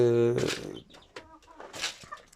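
Chickens and roosters kept in small numbers give a loud harmonic squawk or crow at the start, followed by fainter scattered clucks and rustling.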